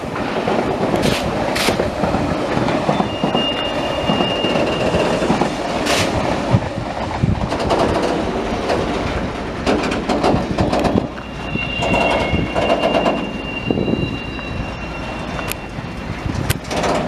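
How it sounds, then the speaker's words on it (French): An RER commuter train passes through the Le Bourget gravity hump rail yard, its steady rumble carrying clickety-clack wheel beats and brief high wheel squeals for the whole stretch, loud and close, with no talk. "On peut voir un RER."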